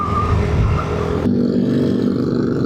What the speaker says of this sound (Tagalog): Yung tricycle nag-slow down naman.